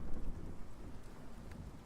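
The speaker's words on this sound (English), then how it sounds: "Ooh, it's rainy." Steady rain hiss from the video game Dark Lord's Fury 2, a continuous broadband wash with a low rumble underneath, moderately quiet and with no voices.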